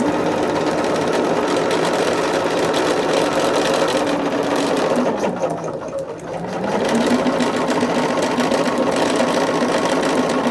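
A sewing machine runs steadily, stitching a quilt scallop with a quarter-inch foot, a close, fast mechanical whirring that dips briefly in the middle before resuming at full speed, with no talk.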